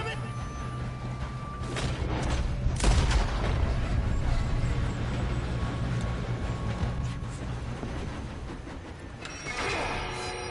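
Gunfire and booming blasts from Red Dead Redemption II ring out during a train shootout, with sharp shots at intervals over a rumbling background and voices talking.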